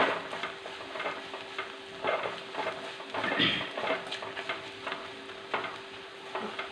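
Pepper and garlic sautéing in a pan for rasam, a soft steady sizzle broken by scattered stirring scrapes and light clicks, close and alone without talk.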